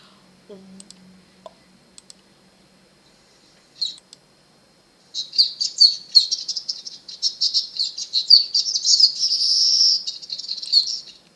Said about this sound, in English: It is a weaver bird, a village weaver bird.